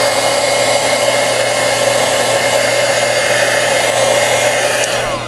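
A hair dryer blows steadily and loudly at close range, drying ink on a stamped card during a bokeh-technique craft session, running as an unbroken whoosh and easing off just at the end.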